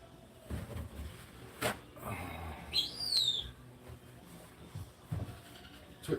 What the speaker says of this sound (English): You hear my bird in the other room?